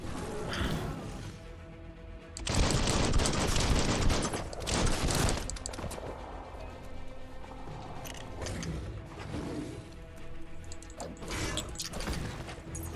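Rapid bursts of gunfire from the Biomutant video game, loud volleys and shot clusters repeating in uneven waves over a steady game soundtrack.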